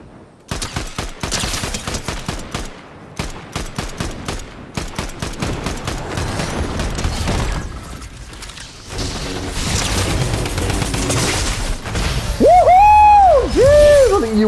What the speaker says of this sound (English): there's people over here shooting at him